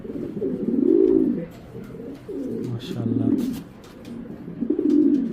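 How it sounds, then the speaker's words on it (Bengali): A white tracer racing pigeon coos in repeated low, rolling bursts, fairly close and steady, while someone speaks briefly over it. "দেখেন একটা হোয়াইট ট্রেসার, ওর ব্যালেন্স কোয়ালিটি অনেক সুন্দর ভাই কবুতরটার"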